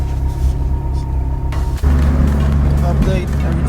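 A Honda Civic Si fitted with a Skunk2 radiator drives along with a loud, steady engine and road rumble, a brief dip then a fuller drone, heard from inside the car.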